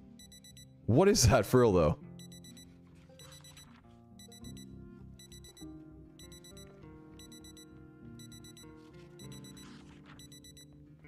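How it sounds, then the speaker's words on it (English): Alarm clock ringing inside the zombie survival game Project Zomboid, a steady repeating electronic beeping that goes on through the whole stretch after a short burst of excited talk. "It's an alarm."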